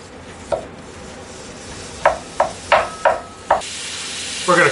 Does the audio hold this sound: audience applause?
no